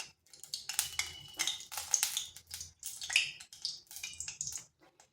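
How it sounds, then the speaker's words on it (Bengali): Egg and flour snack pieces dropped into hot oil in a wok, giving a crackling, spitting sizzle in uneven bursts with small pops, close and fairly clear, with quiet gaps between. "এখানে কড়াইতে তেল গরম হয়ে গেছে, এরপর এগুলো দিয়ে দিচ্ছি।"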